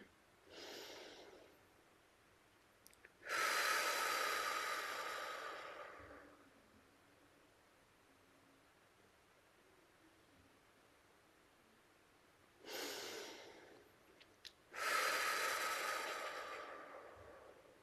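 Slow, deep meditation breaths during a guided shamanic session: two long cycles of a soft inhale followed by a louder, drawn-out exhale, close and alone in a quiet room, with pauses between.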